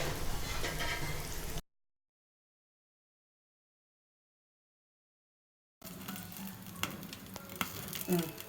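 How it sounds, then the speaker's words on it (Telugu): Gunta ponganalu batter balls frying in a pan over medium flame give a steady close sizzle with small pops, cut by a stretch of silence in the middle. "మీడియం ఫ్లేమ్లో పెట్టుకొని ఈ పొంగనాలు ఫ్రై చేసుకోవాలి."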